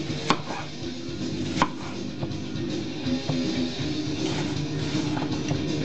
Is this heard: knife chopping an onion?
yes